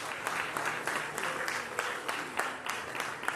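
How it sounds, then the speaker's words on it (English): Round of applause from an audience at a Jamaican political or public address, steady dense clapping with a few louder bursts, held at moderate level throughout with no one speaking. "a big round of applause"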